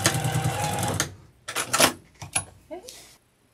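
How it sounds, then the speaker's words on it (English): A sewing machine back stitching the end of a one-piece pillow cover, a dense whirring run followed by a few short bursts and a closing clack. "Give it a back stitch right here at the end."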